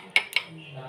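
A spoon clinks twice against a dish while stirring a few spoonfuls of milk for Bengali steamed nolen gur yogurt, two quick close metallic taps followed by a soft faint scrape, no talk.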